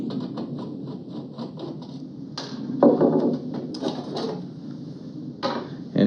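A panel is worked loose from a high bay light fixture, with a run of small scraping, rattling handling sounds up close, then a few sharper clunks and slides of metal as it comes free.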